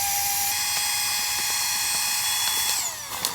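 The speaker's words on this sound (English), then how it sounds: "there's a little adapter on the end that goes on the Thermarest socket, and then you just press it twice and it pumps it up" A small battery-powered electric air pump, fitted with an adapter on a Thermarest sleeping pad valve, whines steadily and close up with a high constant tone, rising slightly in pitch near the end.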